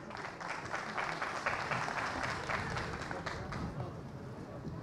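An audience at a cultural gathering in Van applauds steadily, a dense wash of many hands clapping that holds at an even level throughout, with faint crowd murmur underneath.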